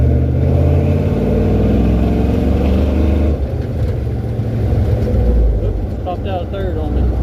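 Ford F250 truck with a 347 stroker engine on a test drive, its loud, low engine droning and pulling steadily from inside the cab with a shift in tone partway, someone talking over it.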